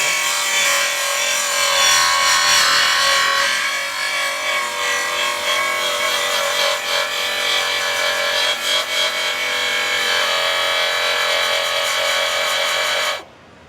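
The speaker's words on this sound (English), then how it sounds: "I'm just going to take this belt sander and kind of rip right through this area." A belt sander grinds down factory spot welds on a steel car body panel, a loud, steady, close abrasive whine holding for over ten seconds before cutting off abruptly.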